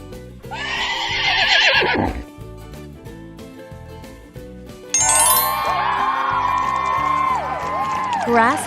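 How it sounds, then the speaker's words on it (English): A horse whinnies loudly in a long, shaky neigh over upbeat children's music, then a sparkling chime flourish follows; an animal-learning segment for toddlers. "horse,"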